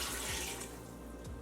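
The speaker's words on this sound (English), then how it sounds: "I'm adding 3 cups of water to cook it." Water pours steadily into a pressure cooker, a continuous splashing rush that eases slightly after the first half-second.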